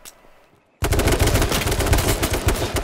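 Video game gunfire aimed at an enemy: after a near-silent moment, a loud sustained burst of rapid automatic shots breaks out and keeps hammering in a dense, even rhythm, up close, with no talking.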